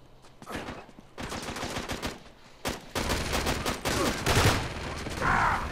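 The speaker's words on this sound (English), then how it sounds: "Oh, someone's trying to shoot me." Gunfire in the Uncharted 3 beta multiplayer, bursts of rapid shots building from moderate to louder, clustered volleys with brief pauses between them.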